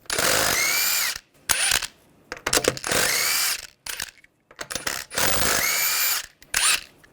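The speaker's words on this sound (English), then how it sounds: "use a 21mm socket, take the lug nuts off" Lug nuts come off the wheel of a 2011-2017 Nissan Juke with a 21mm socket on a power tool. Loud whirring bursts of a second or so repeat about four times, with ratcheting clicks and handling clatter between them.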